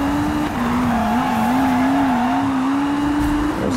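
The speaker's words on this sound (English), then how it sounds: "It's drifting." Jaguar C-X75 drifting in Need for Speed Rivals, with a steady engine drone and a sustained tire squeal that wavers in pitch for several seconds, loud and continuous with no talk.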